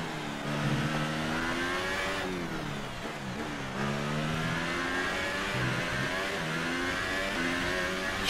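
A Formula 1 car engine in F1 2018, at a Singapore training session, screams at high revs as it climbs through the gears with quick shifts and dips, loud and close, without talk.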